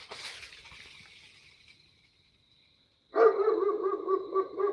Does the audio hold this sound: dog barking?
yes